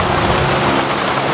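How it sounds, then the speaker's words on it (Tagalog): Rainwater leaking through the roof and dripping inside a house during a rainstorm, a loud, steady wash of rain noise with dense patter throughout and no voices. "Nay, grabe pala na dito ang tulo"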